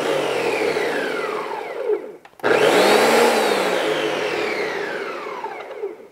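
Ninja blender chopping onion on its pulse setting: a loud whirring motor run, a brief stop, then a second pulse that rises and slowly winds down, no voices.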